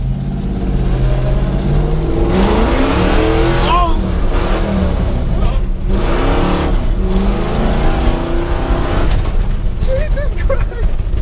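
A boosted Mazda Miata accelerates hard with a passenger on board, its loud engine climbing through repeated rising revs and gear changes across eleven seconds, heard from inside the car, with a brief exclaimed voice partway through.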